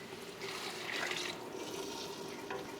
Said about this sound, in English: I'm going to add now 2 cups of water to finish cooking them in that pot.